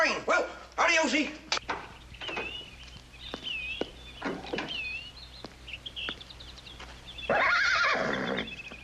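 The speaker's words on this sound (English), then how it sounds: "Looks like a fine horse." A horse in a 1956 Western lets out a loud, rising and falling whinny near the end, after several seconds of other sounds and sparse, scattered noises.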